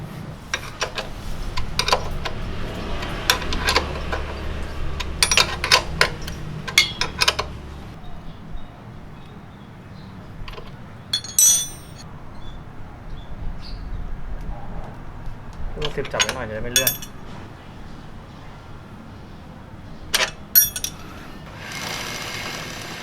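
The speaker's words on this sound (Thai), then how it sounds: "แล้วก็มาไล่ล็อกน็อตทุกตัวเลยนะครับทีนี้" Tools working on the lock nuts of a Yamaha SR400 sprocket hub, with sporadic metallic clicks and clinks through the workshop as people talk throughout.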